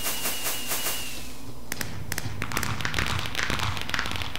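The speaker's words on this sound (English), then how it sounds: "right click, and there's your firework." A firework launches in the video game Minecraft, a whoosh followed by a burst of rapid crackling taps and thuds, close and fairly loud.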